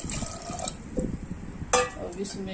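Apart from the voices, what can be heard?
water poured into pressure cooker with chickpeas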